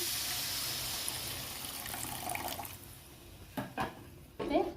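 Tamarind water pouring into a sardine curry simmering in a pan, a steady watery rush for about three seconds, then tapering into a few brief splashes and clinks near the end.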